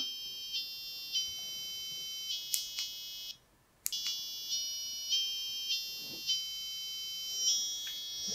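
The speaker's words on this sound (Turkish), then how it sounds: "Elimi bıraktığımda da buzzer'ım susuyor. Böyle bir melodi oluşturdum." A shrill electronic buzzer in a Pinoo music box project beeps out a simple tune of sustained high tones that change pitch, pausing briefly once before the melody resumes.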